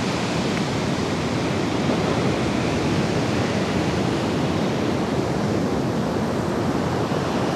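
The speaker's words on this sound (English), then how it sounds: "This is the beach, Manzanillo Uno." Surf on the beach at Manzanillo, a continuous loud wash of breaking waves with some wind noise, no voices.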